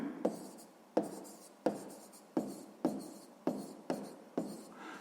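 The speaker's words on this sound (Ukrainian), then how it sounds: "Пишемо тоді за умовою." Pen strokes writing out a sixth-grade math solution, heard as a close series of about eight quick scratching strokes in an even rhythm, each starting with a sharp tap and fading, over quiet surroundings.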